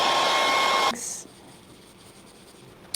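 A loud handheld dryer blows steadily on paint on an Easter canvas for about a second, then clicks off, leaving quiet room tone and a faint tap at the end.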